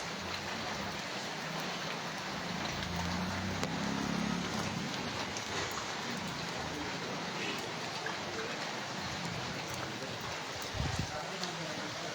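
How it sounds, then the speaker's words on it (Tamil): Steady rain falls over Ayappadi in a continuous, fairly loud broadband hiss of drops on surfaces, holding an even level throughout with a few low rumbles and faint background activity beneath. "மழை இப்போ தான் விடுற மாதிரி இருக்குது ஆயப்பாடியில்"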